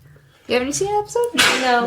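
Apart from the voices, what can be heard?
sneeze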